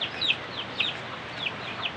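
Broiler chickens in a pen clucking softly, with several short high calls spaced through a quiet, noisy background.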